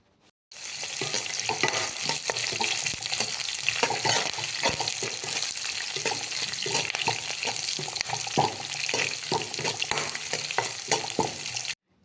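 Onions and dried red chillies frying in hot oil with mustard seeds for cabbage poriyal: a continuous loud sizzle with frequent scraping stirs and small crackles throughout, no voices.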